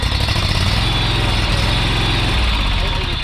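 A repaired Ferris lawn mower engine runs steadily close by, a loud continuous drone with a fast, even rumble and no break in its rhythm.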